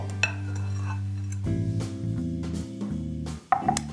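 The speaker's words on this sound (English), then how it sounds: "I'm just going to mix this together lightly, just to make sure everything's really well integrated." A utensil stirring dry ingredients with cocoa powder in a bowl, light scraping and clinking against the bowl with a few sharper taps, close up over a steady low background hum.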